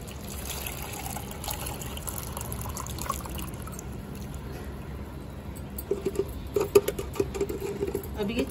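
Garlic-infused water, crushed garlic steeped for a homemade insecticide, strained through a sieve: a soft, faint trickle and patter at close range over room noise, with a few sharper drips near the end.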